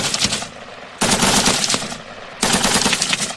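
Three bursts of rapid machine-gun fire in the digital tactical war game Lock 'n Load Tactical, loud and close, each rattling volley lasting about a second.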